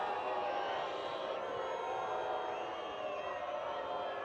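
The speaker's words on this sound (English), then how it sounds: "the crowd does not like this call" Crowd at the 2012 World Ultimate Championships masters final between Canada and Australia reacting to a disputed foul call, a steady broad murmur of many voices heard at a distance under commentary.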